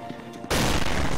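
A grenade detonates in SCP Secret Laboratory, a sudden loud, broadband blast after half a second of quieter game ambience, its roar sustained to the end.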